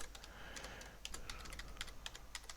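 Someone types code on a computer keyboard, a quick run of light, close key clicks in an uneven rhythm over a faint background hum.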